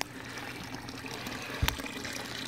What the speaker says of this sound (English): Take a 5-gallon bucket of water here real quick, dump it in, fill it up a little bit.